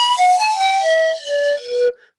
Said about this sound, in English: These pan flutes that I 3D printed recently on the Form 3